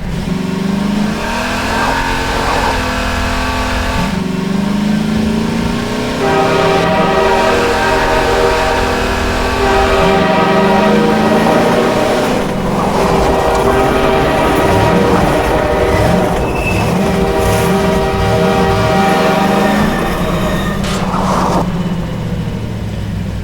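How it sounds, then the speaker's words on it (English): A train horn in the video game Half-Life 2 sounds repeatedly in long, sustained blasts over a steady rumbling engine and rail noise, loud and continuous throughout. "you wait until you hear that train horn"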